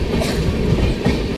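The Howrah–Lal Kuan Superfast Express rolls along, heard from on board as a loud, steady rumble with rhythmic wheel clatter that drops away sharply at the very end.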